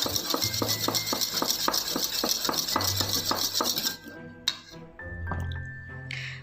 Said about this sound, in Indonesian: Aduk kembali sampai merata.